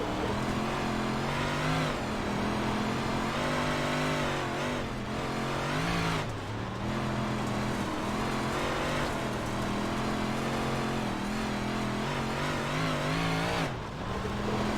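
Big Block Modified race car engine at Cedar Lake Speedway in the iRacing sim, a loud continuous drone with rising and falling pitch as the throttle opens and lifts, with brief dips as the car slows.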